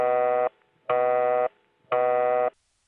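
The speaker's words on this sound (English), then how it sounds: "Now the busy signal for that tone plant sounds like this." A telephone busy signal comes from an exchange tone plant. A buzzy, harmonic-rich tone sounds in three even half-second pulses with short silent gaps, clear and steady.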